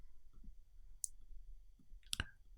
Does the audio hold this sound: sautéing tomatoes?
no